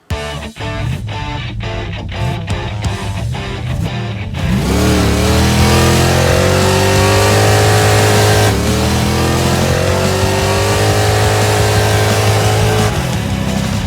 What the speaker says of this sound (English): Burnouts for distance? Burnout.